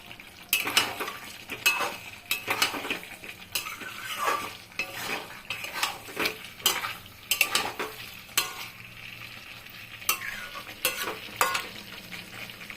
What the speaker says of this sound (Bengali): এবার পনিরটা দিয়ে দিব, দিয়ে একটু নাড়াচাড়া করব।